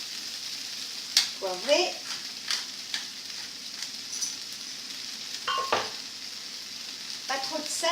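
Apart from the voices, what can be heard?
new potatoes frying and browning in a pan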